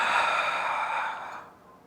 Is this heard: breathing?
yes